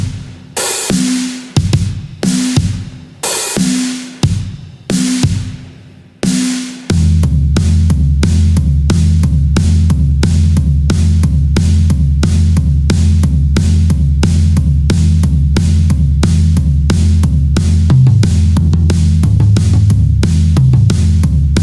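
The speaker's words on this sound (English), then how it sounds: "That's the sound of additive drum." Additive drums layered in an Ableton Live remake: sharp rhythmic hits with decaying tails open the passage, then a dense, loud, driving pattern of rapid repeated drum strikes continues to the end.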